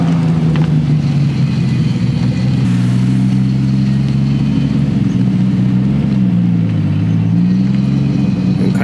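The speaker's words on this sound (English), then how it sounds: "It's a good sounding R33 passing by now." A Nissan Skyline GT-R R33 at a large GT-R car meet drones loudly past at steady engine speed. The note rises and dips slightly as the car goes by, over a constant rumble.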